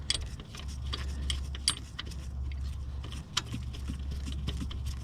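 Metal bolts and tools jangle and clink in short bursts while a starter motor is removed from a Peugeot 407 2.0 HDi, close by over a steady low engine-bay hum, with no talk.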